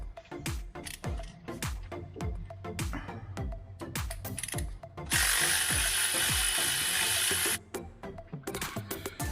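A ratchet wrench works on the exhaust extractor nuts of a Patrol being fitted with a turbo, making close, rapid bursts of pawl clicking. A steady loud hiss of about two seconds breaks in midway.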